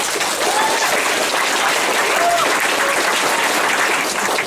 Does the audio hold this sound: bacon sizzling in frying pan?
no